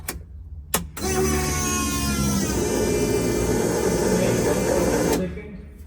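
A Toyota 1UZ V8 fitted in a Nissan 200SX S13 pro drift build cranks and catches on its first startup, then settles into a loud, steady idle close by before cutting off abruptly.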